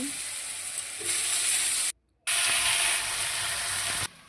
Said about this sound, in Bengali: আলুর দম তৈরি করার জন্য আগে নুন হলুদ দিয়ে আলুগুলোকে মা ভেজে নিল